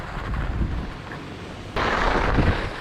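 Strong wind on a ski slope in Durango, Colorado buffets the microphone, a steady roar that suddenly grows louder and harsher partway through, with no voices.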